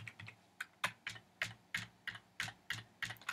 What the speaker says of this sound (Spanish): Entonces puedo yo teclear command B.